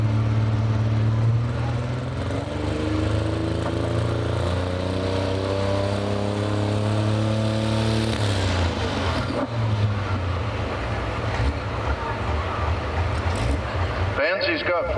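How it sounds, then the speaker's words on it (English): A pulling truck's turbocharged engine revs loudly at a truck and tractor pull, its pitch climbing and holding in a sustained roar, with crowd noise and an announcer's voice mixed in. "Having trouble getting that turbo to spin."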